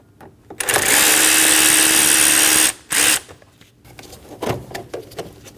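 A power driver with a T15 bit removes the intake screws on a 2012-2022 Volkswagen Passat. One loud, close, sustained whirring burst lasts nearly two seconds, followed by a short second burst and then light clicks and handling noises.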